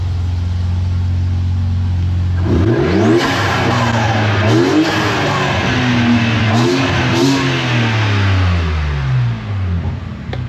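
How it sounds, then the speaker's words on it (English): A BMW G87 M2 fitted with front mount intakes, engine warmed up, revs repeatedly from a steady idle into sharp rising and falling blips, loud and close, with intake roar swelling on each rev. "intake on, car warm. Please listen."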